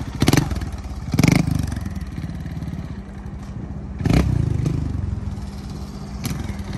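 Honda race motorcycle running on an HRC factory test section, its engine droning steadily with several louder revving surges and some clattering, fairly close.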